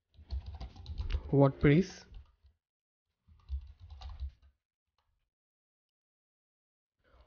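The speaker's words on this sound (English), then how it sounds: "open your browser and in the search box type here bitnami" Computer keyboard typing into a browser search box, a few soft quick key clicks in short bursts between spoken words, quiet and close with long silent gaps.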